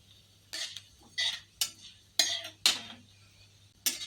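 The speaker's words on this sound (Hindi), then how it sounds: "तो ये मसाले चटक चुके हैं।" Cumin and black mustard seeds crackle in hot oil in a pan: about six sharp, separate pops and spits spread irregularly over four seconds, close and fairly quiet over a low steady hum.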